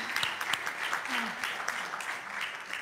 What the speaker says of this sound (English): Let's give Terrill another round of applause, please.